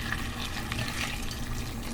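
Hot water poured from a kettle onto boxed potato flakes in a bowl for cheesy potatoes, a steady close splashing and gurgling fill lasting throughout, loud and unbroken with no talk.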